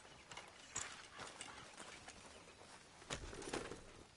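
Horse hooves clip-clop in Red Dead Redemption 2, a quiet, uneven string of hoof thuds with soft birdsong and cooing in the background.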